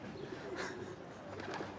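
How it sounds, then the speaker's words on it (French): An outdoor pigeon coos softly in a couple of low, rounded calls, faint and somewhat distant against background ambience. "Il y a un pigeon, là, je regarde depuis tantôt."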